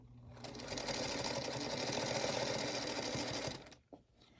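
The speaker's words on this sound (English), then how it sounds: "what I'm going to do is sew 2 sets together like this" A sewing machine runs in one continuous fast burst for about three seconds, stitching checkerboard four-patch quilt block pieces together, then stops abruptly with a brief clunk.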